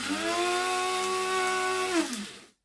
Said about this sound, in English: the tobacco is immediately being grinded